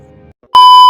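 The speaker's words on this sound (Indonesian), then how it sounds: "Terdengar suara alarm rumahnya" A house alarm in a film starts abruptly after a faint low murmur, a loud steady electronic tone with strong harmonics holding unbroken to the end.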